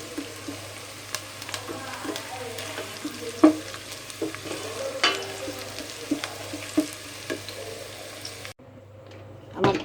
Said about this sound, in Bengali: হাঁড়িতে প্রথমে তেল দিয়ে গরম মশলা এবং পেঁয়াজ দিয়ে ভেজে নিচ্ছি